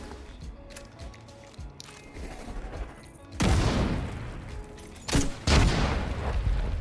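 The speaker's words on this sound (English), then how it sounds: "Throw in a grenade." Grenade blasts go off in the game Division 2, with rattling gunfire in the background before two loud, heavy explosions burst close by in quick succession.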